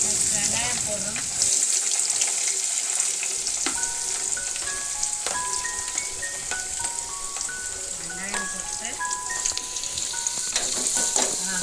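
Eggplant and potato sauté in a pan for a spicy kara kuzhambu curry, a continuous close sizzle with stirring scrapes, while faint melodic tones play underneath.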